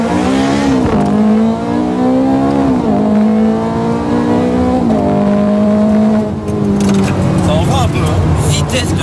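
A Ferrari F430 Scuderia accelerates hard, its engine note climbing through several rapid gear changes, loud and close, with someone speaking over it.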